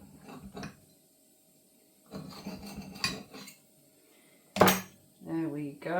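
A knife cuts a sausage and bacon sandwich in half with short crunching, scraping strokes through the bread against a plate or board. Quiet gaps separate the strokes, and a voice begins to speak at the end.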